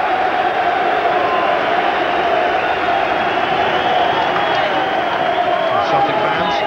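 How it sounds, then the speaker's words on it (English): Celtic supporters at a 1998/99 league match against Hearts keep up a steady, dense stadium roar throughout, with a commentator talking over the crowd. "Celtic fans cheering Blinker once again"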